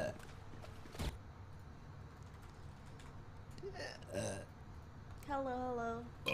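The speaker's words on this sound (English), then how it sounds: "There's your burp." A person lets out a belch during a gaming session, a short voiced gurgle near the end of the clip, rising over a steady background hum with faint room noise and brief talk-like sounds.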